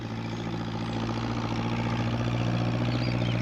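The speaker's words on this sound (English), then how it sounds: "What with the noise of the tractor, Peter Fogg didn't hear Pat's call." A farm tractor engine runs at a steady idle, a low, even rumble that stays loud and unbroken throughout with no talk over it.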